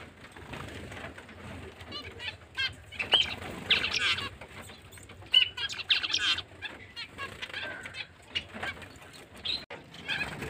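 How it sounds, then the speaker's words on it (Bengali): Pet zebra finches and other finches in a home aviary chirp in quick busy bursts, with light wing flaps and rustling close by. Brief snatches of voice sit in the background. "এই যে কালো পাখিগুলোকে কিন্তু ওই জেব্রা ফিঞ্চ বলে"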